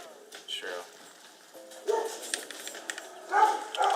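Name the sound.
dogs barking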